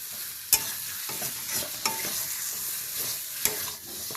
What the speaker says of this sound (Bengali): এটা একটু কষিয়ে নিই